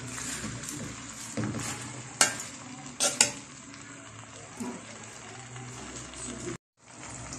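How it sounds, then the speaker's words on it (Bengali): Crushed chalta (elephant apple) being stirred with spices in a pan for pickle, a steady scraping and sizzling with a few sharp clinks of the spoon against the pan, close and moderately loud. "এখন আমি এটা ভালো করে নেড়ে চেড়ে এই মশলাগুলোর সাথে একটু মিক্সড করে নিব"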